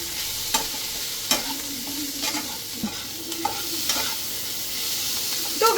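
Raw onions being stirred in a pan with turmeric, chili powder and salt, a spatula scraping and clacking in irregular strokes over a soft, steady sizzle, close and moderately loud with no talking.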